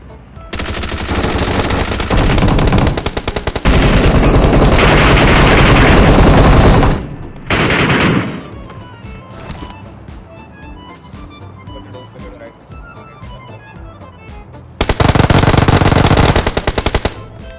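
Gunfire in the mobile battle-royale game BGMI: loud, dense automatic bursts rattle close up in long volleys, with a quieter stretch of scattered shots before another heavy burst near the end.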